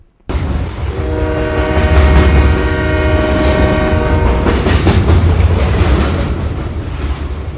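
A luxury tourist train runs past in South India, loud and steady, with its horn sounding in sustained tones through the rolling rumble and clatter of the cars for several seconds.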